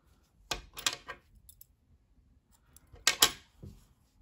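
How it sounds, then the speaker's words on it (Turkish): Scissors snipping sewing thread: a few quick close metallic clicks, a cluster early on and a brighter double snip later, in an otherwise quiet room. "İpliği içeride kaybediyorum ve kesiyorum."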